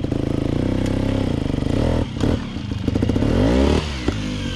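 A TRS Xtrack trials motorcycle picks its way along a rough forest trail in Gifford Pinchot National Forest, its engine putting out a steady close-up putter that swells into revs and throttle blips, with clattering and scraping from the bike as it climbs.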